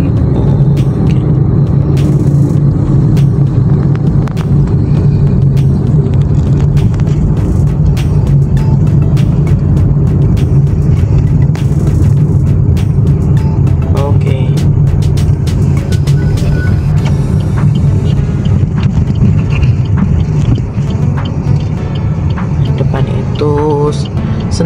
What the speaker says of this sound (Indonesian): Oh itu mobil Sentul City Blok M Transjakartanya